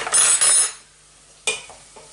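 A spoon stirs a creamy mustard sauce in a pan, two short bursts of scraping and clinking close by, then a quieter gap before another brief scrape and soft taps.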